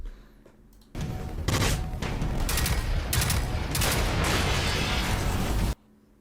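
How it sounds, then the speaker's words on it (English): Glitched explosion audio in the video game Generation Zero, with many blasts stacked into one: a loud, dense, continuous crackling roar that cuts in suddenly, holds for about five seconds, then stops abruptly. "That's a bugged sound right there. I think I just heard 10 explosion sounds in one."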